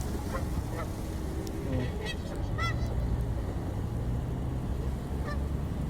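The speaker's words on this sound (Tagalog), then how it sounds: "Ayan na yung mag-asawa ng gansa." A pair of Canada geese honk repeatedly in short bursts over a constant low rumble of background noise, the calls moderately close and spaced irregularly.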